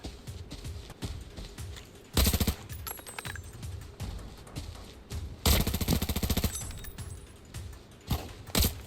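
Loud bursts of automatic gunfire in the game Arena Breakout, set in the Northridge map, with two long rapid volleys and scattered single shots in between.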